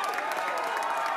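Audience at an election campaign event applauding nurses, a dense sustained wash of clapping and crowd noise holding steady for just over a second.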